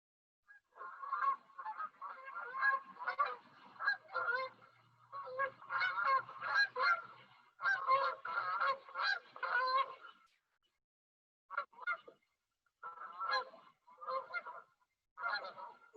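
A flock of geese honks steadily in bursts of overlapping, nasal calls, fairly close and loud, with brief pauses between groups.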